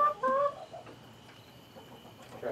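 Hen clucking beside a newly built hen nest, a few short close clucks at the start, then quieter farmyard background.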